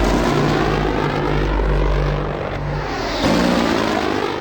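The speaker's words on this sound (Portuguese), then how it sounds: "Helicópteros Little Bird são enviados em uma tentativa desesperada" Little Bird military helicopters flying in a combat setting, a loud continuous rotor and engine roar with steady low throbbing that swells slightly near the end, no voices.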